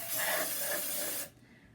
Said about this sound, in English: you have what's called candle release. It's a spray.